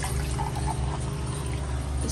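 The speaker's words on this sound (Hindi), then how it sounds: "तब तक डालते हैं इसमें पानी," Water is poured into a potted plant in a home, a brief continuous splashing pour close by, steady and alone.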